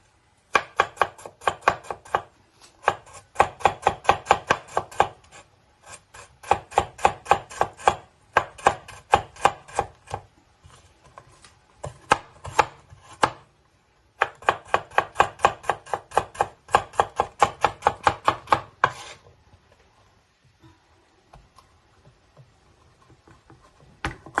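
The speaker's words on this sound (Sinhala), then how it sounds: "මේක ඔයගොල්ලෝ කැමති ආකාරයකට ඔයගලන්ට කපා ගන්න පුළුවන්" Carrots are sliced for a raw salad on a cutting board in quick, rhythmic bursts of crisp knife taps, each run of rapid close chops broken by short pauses, then a quieter stretch with scattered taps near the end.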